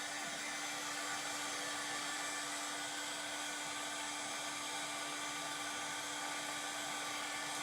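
A hair dryer runs close and steady, blowing to dry paste on a book stack transfer; its even, continuous whir holds for the whole stretch with no talking.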